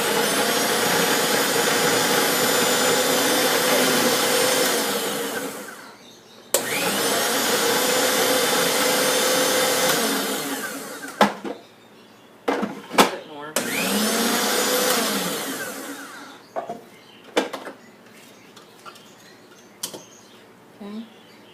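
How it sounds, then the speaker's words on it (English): Food processor chopping torn bread slices, three long loud whirring bursts each running several seconds, then a series of short pulses, heard close with a brief pause between runs. "Helps the food processor chop it up."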